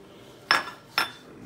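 Two sharp metallic clinks about half a second apart, like a utensil striking a bowl while pepper, onion salt and salt are mixed for mac and cheese, with quiet background otherwise.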